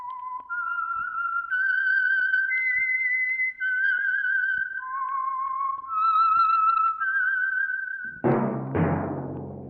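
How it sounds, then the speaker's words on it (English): A person whistles the theme signal of The Whistler radio program, a clear, wavering melody of sustained notes that ends in a short burst of orchestral music. "That whistle is your signal for the Signal Oil Program, The Whistler"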